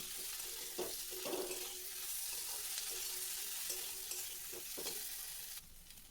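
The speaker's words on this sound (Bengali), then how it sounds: "ধনে পাতা কুচি আর কাঁচা লঙ্কা চেরা দিয়ে আমি ভালো করে আর একটু নাড়াচাড়া করে নেব" Fried egg curry with chopped coriander and slit green chillies is stirred in a pan, the spoon scraping in a few distinct strokes over a steady low sizzle, with no voices.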